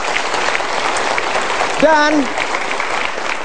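Audience clapping at a Golden Ways motivational seminar, a dense, loud wash of applause with a brief voice rising over it midway.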